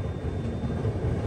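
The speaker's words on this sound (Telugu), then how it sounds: "మన ట్రైన్ అయితే పార్వతీపురంకి వచ్చింది." A train rumbles steadily at Parvatipuram railway station, a low continuous drone with a faint high whine, moderate and unbroken.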